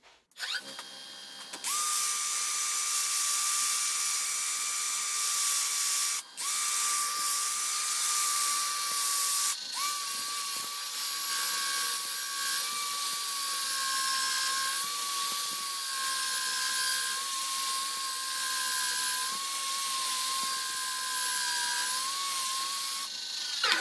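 Power sanding a flame box elder wooden bowl with 80 grit abrasive, a steady high whirring drone close by that runs continuously with brief dips and restarts.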